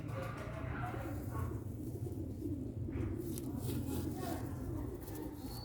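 Pigeons in a rooftop loft give soft, repeated coos that blend with low murmuring, and people talk nearby.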